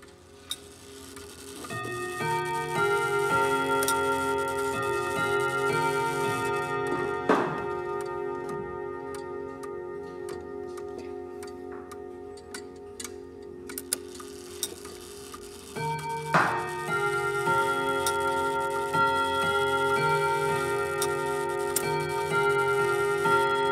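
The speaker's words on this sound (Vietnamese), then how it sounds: "Âm thanh của chiếc đồng hồ này rất là ngân." A French Vedette clock with eight steel rods and eight hammers chimes the half hour: sustained, resonant metallic tones with two clear hammer strikes that ring on against a steady ticking background.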